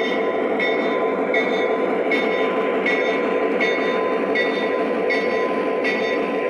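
A Lionel Southern Pacific 1102 EMD SW8 Legacy model locomotive rolls over a sensor track, giving a loud, continuous rumble with regular rhythmic clicks of the wheels over rail joints, with no talk.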